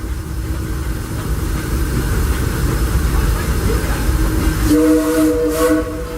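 Disneyland Railroad train rolling steadily along its track with a continuous rumble and rattle, joined near the end by a clear, sustained tonal whistle or brake squeal; loud and close throughout.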